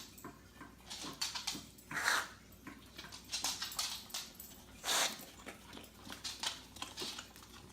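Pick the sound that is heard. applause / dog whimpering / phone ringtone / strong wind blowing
dog whimpering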